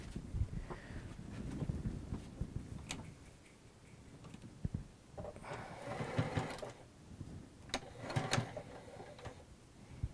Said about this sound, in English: so we're going to sew that together.